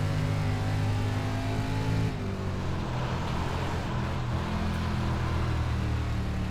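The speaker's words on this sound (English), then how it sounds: "You hear it bogging down in the mid-corner." Dirt race truck engine in the iRacing sim, bogging down mid-corner: a steady, loud, low engine drone with layered harmonics, dipping in pitch and easing slightly around two seconds before droning on, with no talk.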